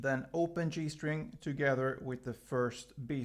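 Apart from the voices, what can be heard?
No distinct noise like a dog, phone or traffic.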